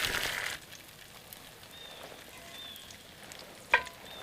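Bacon sizzles quietly in a non-stick pan at a winter tent camp in the forest, a faint, steady crackle with a brief louder hiss near the start and a sharp clink near the end.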